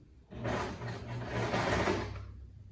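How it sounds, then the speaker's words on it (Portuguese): A sewing machine stitches a seam across fabric for a princess-cut lab coat, giving a quick, steady mechanical chatter for about two seconds, close and fairly soft, with no talk over it. "vou fazer uma costura aqui na largura da sapatilha"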